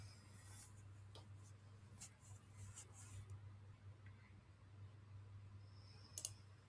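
A computer mouse clicks a few times, light and close, during a software configuration session, with faint scattered ticks and a low steady hum underneath and no talking.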